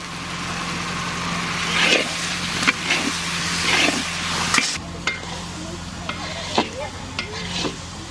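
Spice masala with tomato and garam masala powder fries in a pan for a village-style katla fish curry, a continuous sizzle broken by repeated scraping stirs and a low engine-like hum underneath.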